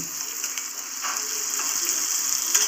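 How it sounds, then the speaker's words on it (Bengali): Gentle sizzling of onions frying lightly in a pan, with occasional soft scraping as they are stirred, over a steady high hiss. "সুন্দর করে একটু নেড়ে চেড়ে ভেজে নিচ্ছি"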